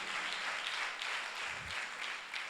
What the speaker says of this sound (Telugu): మరి ఒకసారి తండ్రి గారికి కూడా గట్టిగా చప్పట్లు కొట్టి కృతజ్ఞతలు తెలియచేద్దాం